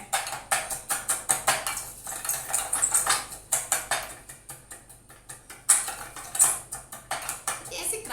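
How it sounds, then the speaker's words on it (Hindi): A spoon crushes lime in a glass for a mocktail, giving repeated rhythmic clinking and grinding strokes in quick bursts, close and fairly loud, with brief pauses between rounds. "और लाइम जूस के बाद हम इसको थोड़ा सा क्रश करेंगे।"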